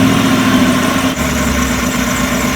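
A 2008 Chrysler 300C SRT Hemi V8 with an aftermarket cold air intake idles close by, a loud steady rumble with a constant low throb and no voices.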